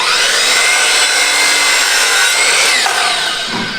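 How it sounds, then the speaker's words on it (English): Saw cutting through wooden beaded colonial casing door trim, a loud, continuous rasping buzz close up that eases off slightly near the end. "So I know I'm cutting his pieces of trim"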